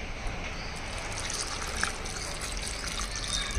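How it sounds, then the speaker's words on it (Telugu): Water pours into a cooking pot partway through making Nellore-style fish curry with large raw mango pieces, a steady continuous trickle and splash close by, with no talking over it. "ఇప్పుడు వాటర్ వేయాలి."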